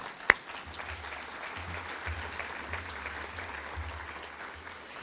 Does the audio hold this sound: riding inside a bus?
no